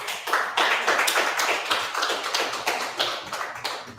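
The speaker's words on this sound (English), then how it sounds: "let's clap it up, y'all. Clap it up again." Audience at a gathering in Harlem, New York, clapping in a fast, dense burst of hand claps, fairly close and steady throughout, with no speech over it.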